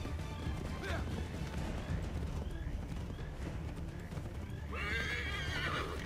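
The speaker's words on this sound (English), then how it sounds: "Come on, horse." A horse whinnies near the end over a steady background of hoofbeats and ambience in Assassin's Creed 3, with faint talk mixed in underneath.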